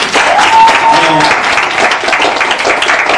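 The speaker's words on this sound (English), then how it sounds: "Please give them a round of applause, please" A crowd at a Philadelphia gathering breaks into loud, sustained applause, a thick continuous clatter of many hands close by with voices underneath.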